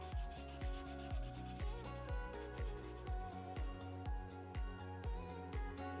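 A pen fills in a black trim area on a drawing with quick, rhythmic back-and-forth scribbling strokes, about two per second, soft and close over quiet background music.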